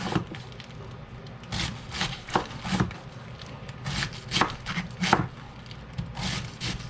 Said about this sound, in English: Slice it real thin.